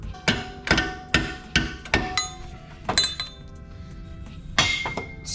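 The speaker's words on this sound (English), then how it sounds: "Swinging this hammer like a goddamn Neanderthal." Sharp metallic hammer strikes ring out one after another in a steady rhythm during a lift kit install on a Rally Ranger, then pause before a final cluster of clanging blows, close and loud.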